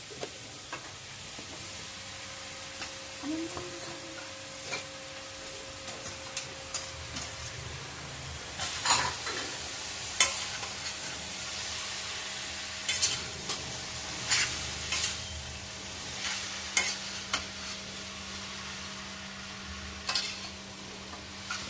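Boiled hakka noodles are tossed and stir-fried in a hot pan, with a steady sizzle under repeated scraping strokes of a spatula that grow busier and louder partway through.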